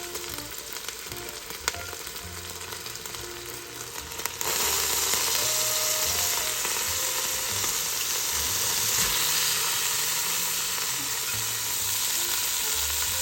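Beef browning in a pan with a tablespoon of mixed spices for a homemade stew gives a steady sizzle that swells louder partway through, with faint stirring scrapes.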